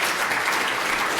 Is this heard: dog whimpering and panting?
no